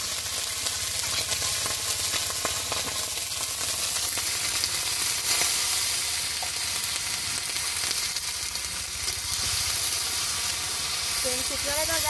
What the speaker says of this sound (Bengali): তেল ছিটকাচ্ছে।